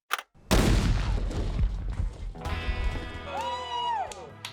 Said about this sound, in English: this is explosion setting off SKS rifles